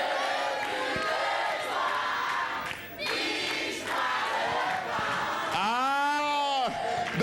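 A Cameroonian TV variety show audience sings along and cheers, a loud continuous crowd roar throughout with a voice rising over it, and a sliding whoop near the end.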